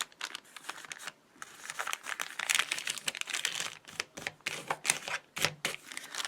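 Paper lunch bag journal pages being folded and handled: close, busy crinkling and crisp rustles with sharp creasing taps, in uneven bursts and brief pauses, no talking.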